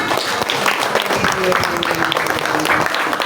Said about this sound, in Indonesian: Iya, tepuk tangannya mana?